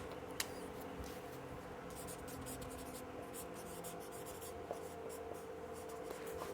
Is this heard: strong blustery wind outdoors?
no